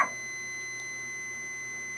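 A digital multimeter in continuity buzzer mode sounds while probing a shorted capacitor, giving a faint, steady electronic tone that holds unbroken after a brief click at the start.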